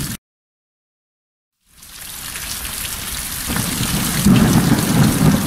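Steady rain falls with a low rumble of thunder, starting after a short silence and building louder, denser and closer toward the end.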